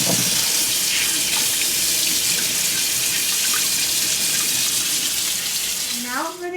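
Carrots being washed under a running kitchen tap before juicing, a steady loud hiss of water splashing into a sink throughout, with a brief shift in the flow near the end.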